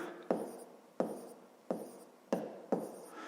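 Five separate pen strokes scratch across paper while a math problem is worked out by hand, each a short scrape that fades, spaced roughly evenly and close up with no voices.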